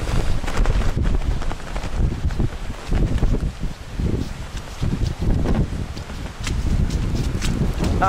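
Wind gusts buffet the microphone on an open hillside in Glen Nevis, Scotland, a loud, uneven rumble that surges and eases throughout, with no talk over it.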